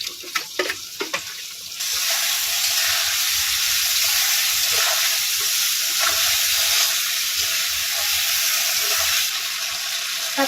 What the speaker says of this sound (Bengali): একসঙ্গে কষিয়ে নেব